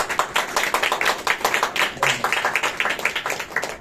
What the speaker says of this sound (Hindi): बहन के लिए तालियां बजाएं।